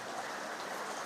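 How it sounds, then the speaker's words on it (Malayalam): Heavy rain during a flood-prone downpour makes a brief, steady, dense hiss of falling water, faint and even with no voices. "നല്ല മഴ കേട്ടോ"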